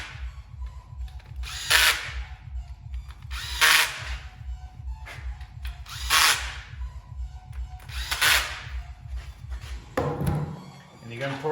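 Power tool driving bolts into a transmission case while rebuilding a 2006 Harley-Davidson Ultra CVO, with a steady low motor hum and five sharp high bursts as each bolt seats, close and loud, with no talk.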